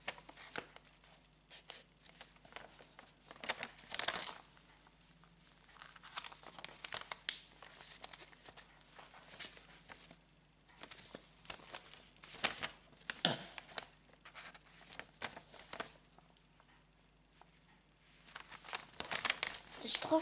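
Craft box products unwrapped and opened close up, with busy crinkling and crumpling plastic and paper plus occasional tearing in uneven bursts throughout.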